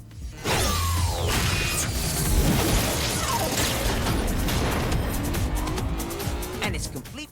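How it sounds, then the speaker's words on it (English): A rebuilt high-tech turbo car drives hard with tires squealing under a dense, loud roar of engine, skidding and mechanical clatter, with a voice speaking over the action. "the turbo car."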